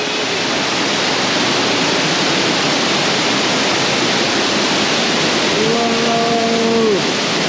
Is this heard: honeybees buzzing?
no